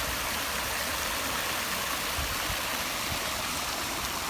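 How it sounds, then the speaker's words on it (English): An outdoor water fountain in front of a science museum splashes in a steady, dense hiss that holds constant throughout. Faint low rumbles from the surroundings sit underneath. "Here we have the water fountain in front of the Science Museum."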